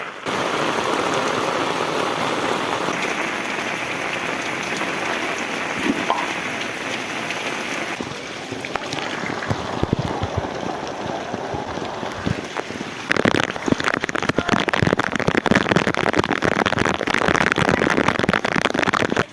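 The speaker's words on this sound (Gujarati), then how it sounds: "વરસાદ ભાઈ સવારમાં ચાલુ થઈ ગયો છે" Heavy morning rain falls on a residential street, a continuous loud wash of drops that thickens and grows harsher near the end, with scattered sharper spatters and no talking.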